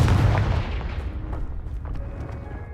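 A Confringo fire spell blast in Hogwarts Legacy lands as a sharp, heavy boom that rolls off into a rumbling, crackling decay over a few seconds, loud and close.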